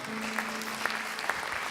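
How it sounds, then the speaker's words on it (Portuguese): A crowd at a church youth congress applauds, a continuous blended clapping over a low sustained tone, with scattered louder individual claps. "Você pode aplaudir ao Senhor?"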